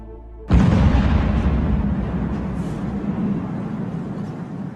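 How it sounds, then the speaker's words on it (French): A sudden deep boom bursts in after a short hush, followed by a long rumbling roar that slowly fades, heavy and powerful: a sonic boom from a fighter jet breaking the sound barrier. "Ce son d'explosion est un bang supersonique récemment causé par un avion de chasse"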